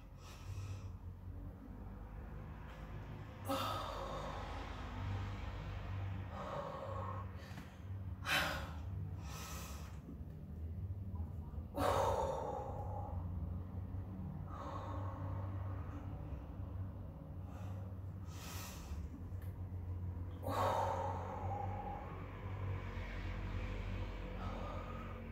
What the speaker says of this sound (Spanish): volvemos a la respiración.